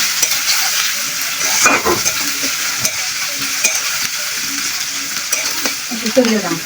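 Dried fish chutney ingredients frying in a pan until reddened, producing a loud, continuous close sizzle with occasional stirring scrapes and clinks and no speech.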